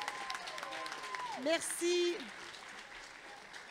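An audience claps at the Mauricie regional final of the Secondaire en spectacle high school talent show: a continuous crackling wash of applause under a voice speaking over a microphone.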